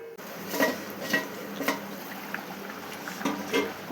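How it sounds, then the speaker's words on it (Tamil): Several sharp metallic clinks and scrapes ring out from a pot lid and cookware over a pot of boiling mutton kulambu with ground coconut and potatoes. Soft bubbling and stirring sounds run between the clatters, with no talking. "மூடி வச்சிடலாங்க"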